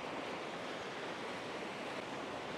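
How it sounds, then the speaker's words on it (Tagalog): Sea waves crash against rocks on a beach in Roxas, Palawan, making a steady, dense surf roar that fills the whole stretch with no pauses and no voices. "kitang-kita nyo naman yung humahampas na tubig dagat sa mga bato"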